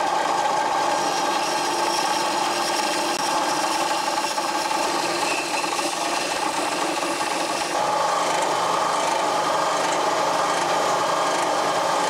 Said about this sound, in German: Das schneiden wir uns jetzt hier an der Bandsäge einfach mal raus.